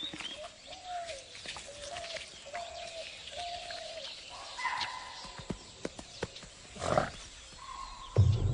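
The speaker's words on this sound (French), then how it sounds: "Soudain, un cri d'alerte les perturbe." Alarm call in an Indian jungle where a Bengal tiger approaches grazing herbivores, a series of short, regularly spaced cries in the distance followed by a louder closer call, over faint forest ambience.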